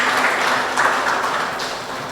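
Audience applause at a gathering, a brief burst of dense, steady clapping from a crowd, fairly loud and continuous with no talk over it.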